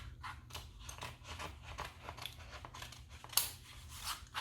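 Soft, quick snips of scissors cutting removable wallpaper trimmed to size for covering an outlet cover, a run of faint, close cuts with a rustle of paper and no speech.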